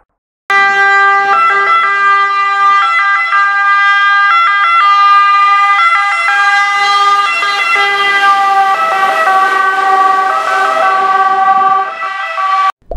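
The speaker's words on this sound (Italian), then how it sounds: "Risentiamo ora la sirena dei Vigili del Fuoco." A fire truck siren sounds loud and close with a repeating two-tone wail that steadies into a long continuous tone, its pitch sliding lower as it passes and fades.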